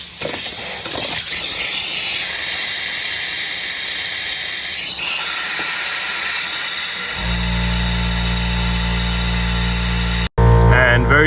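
Air hisses steadily through the opened valve of a coolant vacuum tool on a Jeep Wagoneer 3.0 Hurricane, a loud continuous rushing that deepens into a strong low roar partway through, then cuts out briefly and resumes.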